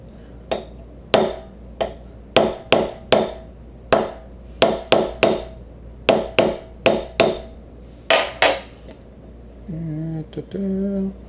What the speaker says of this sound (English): put it on top of that roll pin, get our trusty hammer